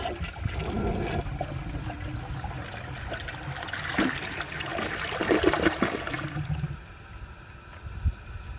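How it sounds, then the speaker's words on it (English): A 2003 Kohler Serif toilet flushes with its chain held up, a rushing gurgle of water draining through the bowl that swells and then tapers into quieter trickling near the end. "now I'm going to give it another flush with the chain held up"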